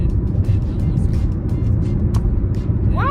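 Steady road traffic rumbles past close by, with a continuous low roar from passing cars and faint speech-like sounds mixed into the noise.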